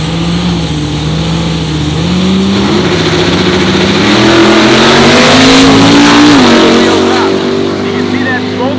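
A Cummins diesel compound-turbo Chevy rat rod pickup runs a drag strip pass, its engine note droning loud and steady as the pitch climbs gradually under acceleration, dominating the whole stretch without break.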